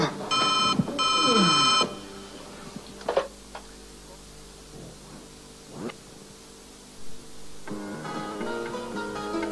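A telephone rings in a domestic drama scene, two loud electronic ring bursts at the start, another ring returning near the end, with quieter movement and sparse sounds between.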